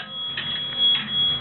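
A telephone rings through a Western Electric 755A crossbar PBX as a steady, narrow, buzzy electronic warble that pulses gently over a low hum, heard alone.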